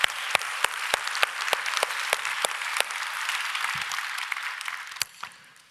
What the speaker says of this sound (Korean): 우리 아버지들 격려의 박수 한번 했습니다